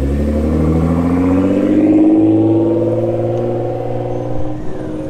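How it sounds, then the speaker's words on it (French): A tuned red Ferrari 488 Pista Spider with a grey interior rumbles at idle with a deep, steady, loud drone that swells slightly and then eases, close by, with no voices. "Je pense qu'elle a une sacrée prépa celle-ci parce que le son au ralenti est assez ouf"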